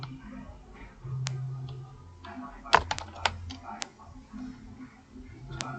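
Typing text into Microsoft Word on a computer keyboard, a cluster of sharp close key clicks in the middle, with someone speaking French before and after.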